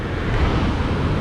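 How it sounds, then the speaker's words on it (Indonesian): Strong wind blowing outdoors in a city, a loud continuous rushing roar buffeting the microphone for a brief moment with no other sounds standing out. "Kalau angin di sini, guys, keras sekali."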